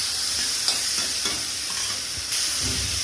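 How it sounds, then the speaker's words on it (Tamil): Onions and shallots sautéing in a pan for chicken curry, with a steady close sizzle and occasional stirring scrapes running throughout. "அது எல்லாமே இதில் போட்டு அதையும் கொஞ்சம் நல்லா வதக்கிடணும்."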